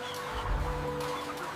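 Chickens cluck on a large-scale poultry processing line, a short, close burst of clucking over steady mechanical hum.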